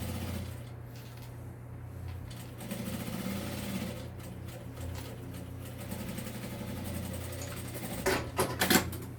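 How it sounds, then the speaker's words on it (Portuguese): A sewing machine runs a parallel seam to secure a zipper, making a quiet, steady mechanical whir with a rapid stitching rhythm. A few sharper rattling bursts come near the end. "viro e faço uma costurinha em paralela àquela que já tinha feito para prender o zíper"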